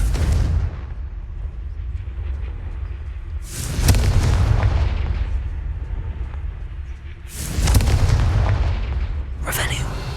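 Confringo fire spells from Hogwarts Legacy go off as three loud, sharp blasts at spaced intervals, each followed by a rumbling tail over a low steady background.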